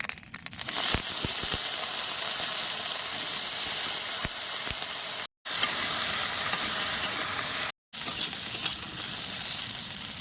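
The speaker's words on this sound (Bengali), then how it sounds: "আর আলু আর কচু কড়াই মধ্যে দিয়ে দেবো" Potato and taro pieces frying in a wok give a loud, continuous crackling sizzle, with a few sharp scrapes and clatters near the start and two brief cuts to silence.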